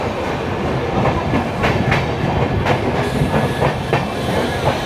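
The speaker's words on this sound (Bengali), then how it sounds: "তো আপাতত দেখো আমাদের ট্রেনের স্পিড কিন্তু উঠছে আস্তে আস্তে।" Darjeeling Mail train gathering speed after leaving NJP, heard from on board: a continuous loud rumble with repeated clickety-clack wheel beats over the rail joints.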